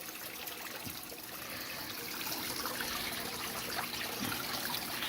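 Water trickles and drips steadily from an aquarium water sprite plant and its root mass lifted out of a fish tank, a continuous close splashing patter with a few distinct drops.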